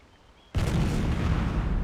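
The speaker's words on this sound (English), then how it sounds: "Cannon." A cannon fires in the video game Jade Empire: one sudden loud blast followed by a dense, sustained roaring rumble of explosion and debris, close and alone without speech.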